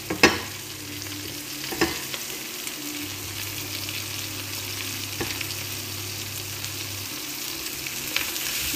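Coriander frying in a pan for sambusa keema, a continuous close sizzle with a few sharp clinks and stirring knocks scattered through it.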